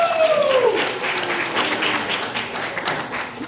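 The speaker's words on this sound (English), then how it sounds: "Give yourself a round of applause." Audience at a high school theater banquet claps in a steady burst of applause, close and full, fading slightly toward the end.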